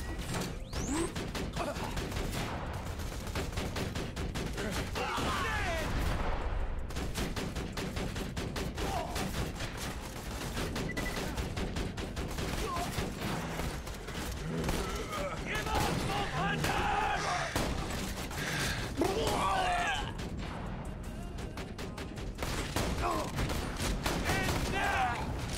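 Turret gunfire in Borderlands 2 sounds as repeated rapid bursts and clanking mechanical shots spread across the stretch, fairly faint and mixed with chaotic battle noise and brief speech.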